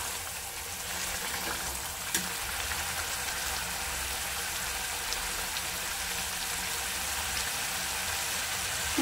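Spice paste for a Bengali pomfret curry fries in hot oil with a steady, even sizzle and crackle, continuous and close, with no voices.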